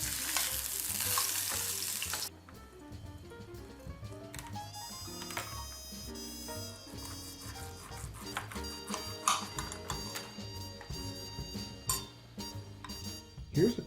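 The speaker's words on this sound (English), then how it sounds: "So you're just searing it on each side" Steak sears in a hot pan, starting with a loud, bright hiss that cuts off and then gives way to quieter crackling and clinks of cookware over background music.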